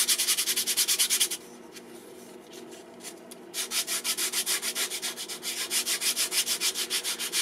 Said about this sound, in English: So first I'll sand this bottom surface with 120